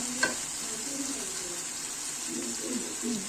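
Jackfruit curry simmering and sizzling in a pan, a steady soft frying hiss with a sharp clink near the start and faint stirring scrapes later on, with no voices.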